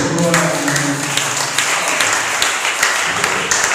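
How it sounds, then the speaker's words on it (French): Applause from a church congregation during a French and Lingala teaching service, steady clapping with sharp individual claps standing out, loud and close, sustained for a few seconds. "On peut acclamer pour la parole."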